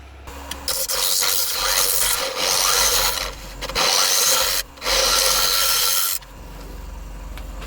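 A wood lathe turns a glued blank of oak, cherry and ash offcuts while a tool flattens its face, giving loud continuous scraping and rasping that dips briefly twice, then settles to a steady motor hum.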